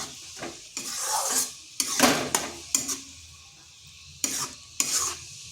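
Eggplant cooking with turmeric in a pressure cooker is stirred in quick bursts, a spoon scraping and clinking against the metal pot over a faint sizzle.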